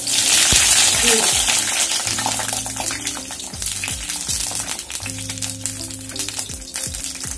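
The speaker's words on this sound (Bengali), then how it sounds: "বেগুনগুলো প্রথমে ভেজে নিচ্ছি। তেল গরম হয়ে গেছে" Eggplant pieces frying in hot oil, a loud bubbling sizzle that starts strong and settles into a steady crackle, with faint clinks and hums beneath it.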